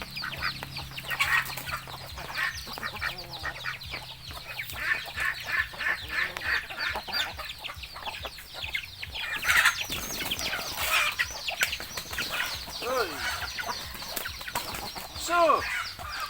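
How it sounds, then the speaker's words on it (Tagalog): Native chickens on a farm cluck and squawk continuously at close range, a busy overlapping chatter of many birds with a brief louder burst midway. "So ito naman mga kapatid yung ating mga manok."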